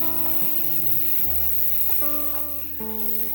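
Jackfruit seed mash with chopped coriander fries and gets stirred in a pan, a continuous loud sizzle under a sustained tonal hum.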